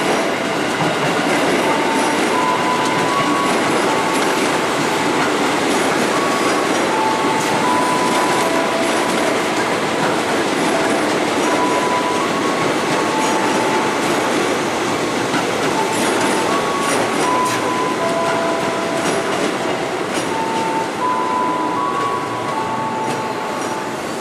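A TM 6000 electric commuter train rolls into track 5 of a station, a loud, steady rumble of wheels on rails with rhythmic clickety-clack and faint high squeals, continuous and close throughout.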